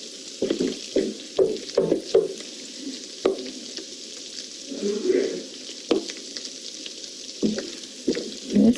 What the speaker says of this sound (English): This is sounding a little dangerous, like deep fat frying